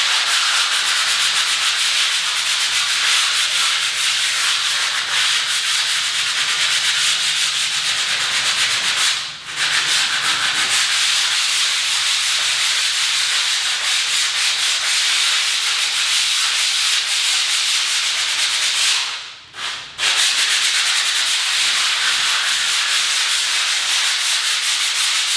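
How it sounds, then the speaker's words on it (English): Sanding a granite surface with sandpaper, a loud, steady, continuous abrasive hiss close by, broken by two brief drops where the sanding pauses. "So you just start to sand it or with a hand or with a machine"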